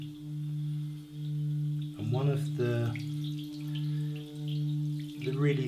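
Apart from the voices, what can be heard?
large antique Himalayan singing bowl resonating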